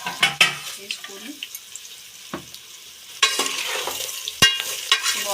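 Bottle gourd pieces stirred into sambar vegetables frying in a pan, with scraping utensil strokes, soft sizzling and a few sharp clinks against the pot, close and fairly loud.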